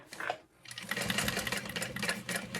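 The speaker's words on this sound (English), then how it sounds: "So back stitching at the start and back stitching at the end." A sewing machine stitches a bag lining, running in a steady, loud whir with a brief pause near the start, then continuous close stitching.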